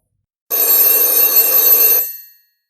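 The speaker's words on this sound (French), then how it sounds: "C'est le téléphone de la marque Socotel," Socotel S63 telephone, a grey plastic model, rings with a loud, continuous electromechanical bell for about one and a half seconds before it cuts off and a brief ringing tail fades out. There is no talk.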